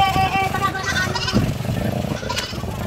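Goats being shipped by boat from Medang Island to Sumbawa in West Nusa Tenggara bleat repeatedly and close by, their calls overlapping over a low engine drone.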